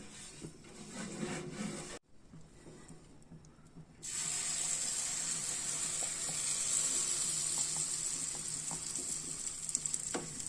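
Potato pizza cooking in a pan on the stove over slow heat, a soft steady sizzle that drops out briefly and then returns stronger and constant, with a few faint clicks.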